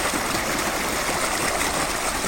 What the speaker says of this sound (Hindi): ट्वेल से पानी जा रहा है